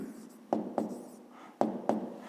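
Hand writing for a fifth-grade maths exercise, with four soft taps of pen or chalk against a low steady background hum, close and quiet, no one talking.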